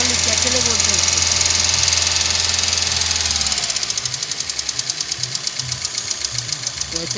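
A car engine with a hydraulic tappet fault runs with a loud broadband mechanical din, then settles into a rapid, even ticking knock that repeats steadily near the microphone.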